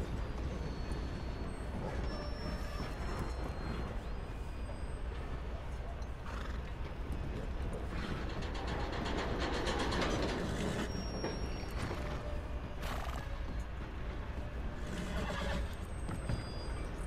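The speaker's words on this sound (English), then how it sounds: "I didn't know that horses get startled from trains." In Red Dead Redemption 2, a horse startled by a passing train whinnies and snorts over a dense, continuous rumble of mechanical clanking and clattering. No one speaks.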